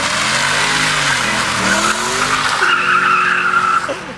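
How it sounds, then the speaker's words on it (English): A Ford Mustang SVT Cobra power slides with a loud, sustained tire squeal, its pitch wavering and rising as the engine drones underneath, close and continuous until it fades at the end. "He's doing a power slide."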